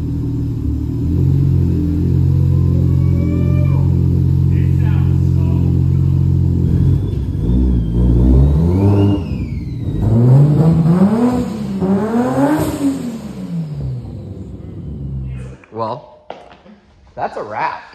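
A Toyota JZX car's engine idles with a deep rumble, then revs in rising and falling sweeps as the car pulls away down a driveway, loud and close, with voices talking partway through.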